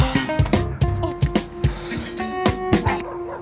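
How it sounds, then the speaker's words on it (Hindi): Several dogs bark in a drama scene, a series of sharp yips and barks in quick succession over a tonal music bed, fairly close and loud. "ये कुत्ते क्यों इतना भौंक रहे हैं?"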